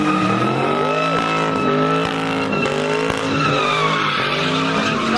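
Car skidding and revving at a large car meet, with loud, sustained engine revs and wavering tire squeal holding steady throughout, close to the listener.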